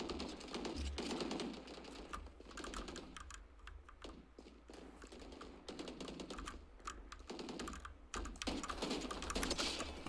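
Rapid clacking keystrokes from a computer keyboard run steadily throughout, close and fairly loud, layered with a low hum and scattered louder taps.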